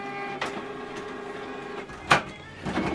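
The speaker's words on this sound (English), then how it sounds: "Right now it's printing." An inkjet-style printer running a print job sent from a mobile phone, a steady mechanical whir with tonal motor hum and a couple of sharp clacks of paper feed, close and alone.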